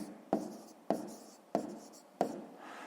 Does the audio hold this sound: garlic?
no